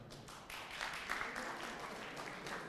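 Audience applause at an Eastchester Eagle Scout Court of Honor for Troop 353, following the introduction of a state senator: a steady, moderately distant patter of clapping that holds for about three seconds.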